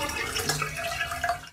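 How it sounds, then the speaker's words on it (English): Water pours steadily into a bathtub in a children's bubble bath game, a continuous splashing, trickling wash at moderate level with faint drip-like sparkle, running about a second and a half before cutting off abruptly. "Click on the container to pour water in the tub."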